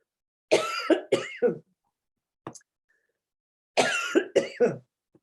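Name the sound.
coughing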